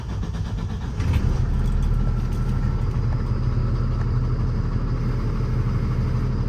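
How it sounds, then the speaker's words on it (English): A 2018 International 4400 service truck with a Cummins engine and its check-engine light on, driving with a steady, loud low rumble that swells slightly after the first second and holds without a break. "I'm going to hop in the truck and take it for a quick spin."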